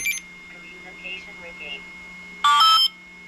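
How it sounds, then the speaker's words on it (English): Hobbywing XRotor X6 motors on a hexacopter drone emit a short, loud, close arming beep of two quick tones after quieter electronic tones, with someone talking faintly in the background. "You just heard that kind of final beep there, doo-doo. That is the motors."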